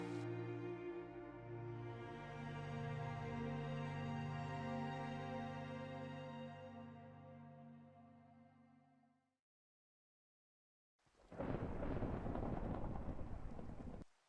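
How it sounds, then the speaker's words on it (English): Rain and thunder in Minecraft. A long sustained tonal drone fades to silence, then a loud, broad rush of rain and rumbling thunder bursts in suddenly. "With the rain and the thunder, it looks so cool."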